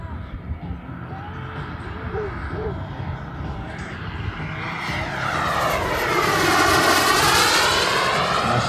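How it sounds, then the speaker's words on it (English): Propeller engines of two radio-controlled scale airplanes flying in formation drone overhead, growing louder as they pass close by, with a steady rising and falling buzz and some voices in the background. "going to do a formation flying exercise with two beautiful airplanes"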